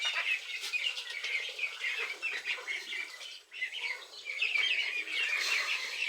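Ducklings chirp in a rapid, high, overlapping chorus as they drink water near a goat pen, close and moderately loud, with a brief lull midway.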